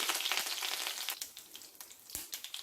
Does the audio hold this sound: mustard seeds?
yes